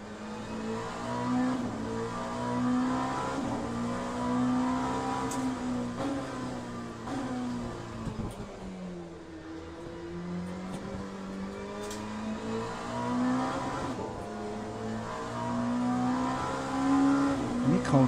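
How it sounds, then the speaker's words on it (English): An LMP2 prototype race car engine in the Le Mans Ultimate racing game roars steadily at Sebring, its pitch rising and falling through gear changes and revs over eighteen seconds, with faint talk now and then underneath. "Is the engine sound better overall, by the way, guys?"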